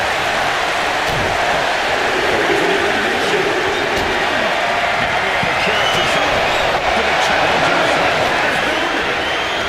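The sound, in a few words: crowd cheering in the video game WWE 2K25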